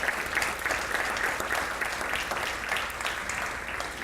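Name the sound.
audience applause for the programs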